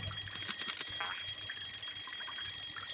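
Timer bell rings in the Papa's Donuteria video game, a steady bright electronic ringing tone running throughout under faint low background game sounds.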